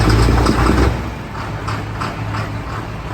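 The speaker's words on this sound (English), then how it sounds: "Right, cold start, off we go." A large, high-horsepower tractor engine cold-starting and running, a loud, heavy rumble for the first second that then eases into a steady, close idle with no voices over it.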